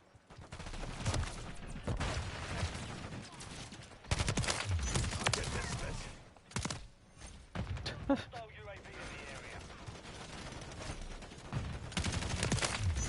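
Call of Duty gunfire on the cramped Shipment map, with dense automatic bursts and single shots running nearly the whole time, loud and close, a voice talking over parts of it.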